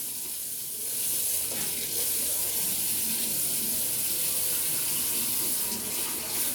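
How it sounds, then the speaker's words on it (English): Kitchen tap running onto a pan in the sink, with a steady loud rushing hiss of water that swells slightly after the first second and continues throughout, close by with no talking. "Helps if I put the water on the hot side."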